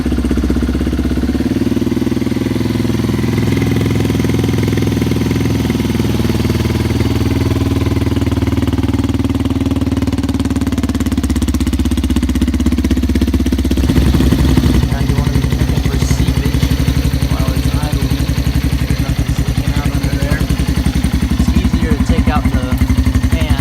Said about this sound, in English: Pull that choke out, put your ignition on, start the bike.